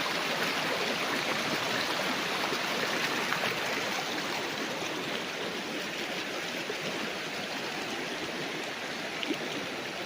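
River running alongside a farm lot in Majayjay, Laguna, a constant close rushing and gurgling of flowing water, broadband and unbroken for ten seconds, with no voices.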